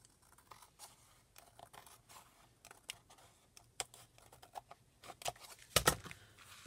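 Close, quiet snips and crisp cuts of scissors trimming paper around an edge for journal crafting, scattered irregularly with a louder rustle near the end.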